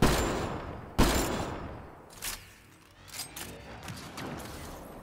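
Turret gunfire in the video game Mass Effect Andromeda: two sharp, loud bursts open the stretch, followed by scattered quieter shots and clanks. No one talks.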